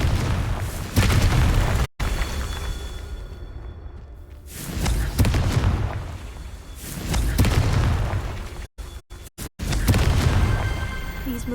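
Fiery blasts from the Confringo spell in Hogwarts Legacy, a game set during a troll fight: loud, booming explosions and bursts recur across the span, broken by brief silent gaps, with dense low rumble throughout.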